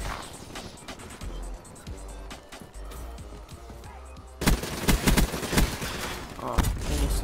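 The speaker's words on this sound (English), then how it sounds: "Why are you shooting me?" Rapid gunfire from a Black Ops 3 online match, dense bursts of shots and impacts that grow louder and busier in the second half, with no talk over it.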